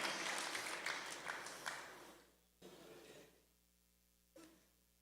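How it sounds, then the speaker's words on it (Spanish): A church congregation applauds: a dense wash of clapping fades out over about two seconds, followed by quieter murmuring and a brief cough-like burst. "Aplaudan ahora que se puede"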